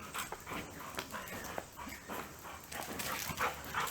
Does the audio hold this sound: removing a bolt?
no